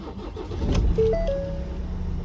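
A Ford Transit diesel van with 69,000 miles cranks and fires up, a short starter whine catching into a steady, close idle that settles and keeps running.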